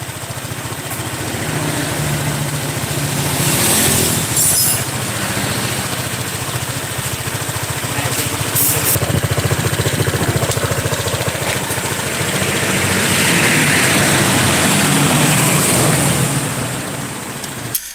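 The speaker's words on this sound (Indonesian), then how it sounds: "Terus dia juga nunjukkan suara mesin" An automatic scooter motorcycle engine idles steadily, a continuous mid-pitched hum with a light rattle, close and unbroken throughout with no talking.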